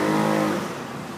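Car traffic on a street in Seoul at night, a steady close engine and tyre rumble of vehicles driving past, loud at first and easing slightly after half a second.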